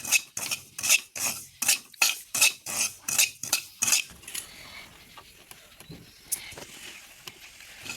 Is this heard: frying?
yes